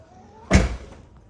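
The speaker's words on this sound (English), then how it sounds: "Again, these are automatic doors." A single short thud of a 2024 Tesla Model X Plaid's automatic door shutting, fairly close, with a brief rattle after it against a quiet background.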